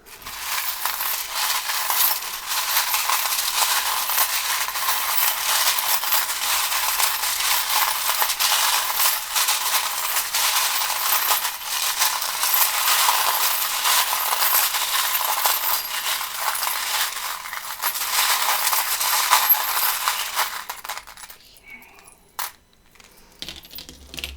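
Charms and dice shaken and cast during a tarot reading, a steady dense rattling and clattering that runs for about twenty seconds before stopping, followed by a few sparse clicks and taps.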